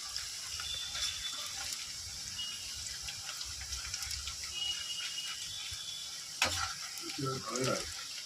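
Onion slices for birista frying in hot oil, a continuous close hiss with faint bubbling, and a brief clatter and some stirring near the end; no voices.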